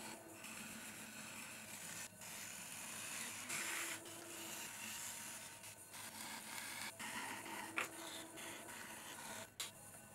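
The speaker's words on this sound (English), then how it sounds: "I use a turning tool that's also completely straight, and then I work my way up from bottom to top, trimming and feeling the cross-section as I go" Quiet, continuous scraping and rubbing as a straight turning tool trims a clay pot spinning on a potter's wheel, with a low steady motor hum and occasional faint clicks throughout.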